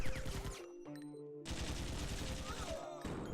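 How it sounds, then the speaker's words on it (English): Shotgun fire in the video game Iji: loud, dense blasts that come in quick succession with brief gaps, layered over steady game music and effects. "I'll use the shotgun to break these first"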